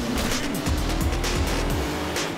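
Remote-control cars race in a video game, engines whining steadily with repeated tire squeals and skids sweeping past in quick succession, loud and continuous throughout.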